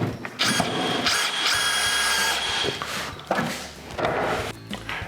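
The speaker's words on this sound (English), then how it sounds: "Now install our corner screws on the bottom and the second quarter." Power tool drives corner screws into pop-up camper body panels in short whirring bursts of rising pitch, close by, separated by brief pauses and handling noise.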